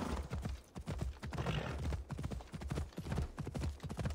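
Horse hooves clip-clopping at a steady trot in Assassin's Creed Odyssey, loud and close, with a brief whinny-like burst partway through and no talk over it.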